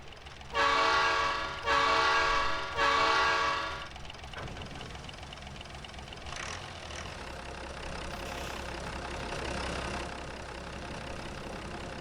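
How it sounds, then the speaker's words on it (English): Locomotive in the Trainz 2022 rail simulator game sounds three long horn blasts, loud and close, followed by a steady low diesel engine drone running alone for the rest of the clip. "the engine sound on this thing sounds so much like they went out to somebody's old tractor and recorded it"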